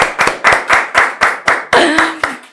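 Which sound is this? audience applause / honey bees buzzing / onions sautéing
audience applause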